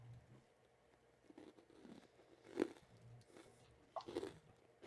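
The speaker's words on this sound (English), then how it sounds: "And it is definitely more crunchy than the Watson's one as well" Crunchy sponge candy being bitten and chewed, with a few sharp crunches standing out over quieter, intermittent chewing close to the mouth.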